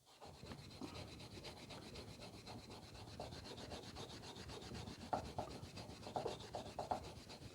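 Steady rubbing and scrubbing over an old wooden hand plane with a cloth and methylated spirits, a continuous close, soft scratchy friction with a few sharper strokes near the end, no talking.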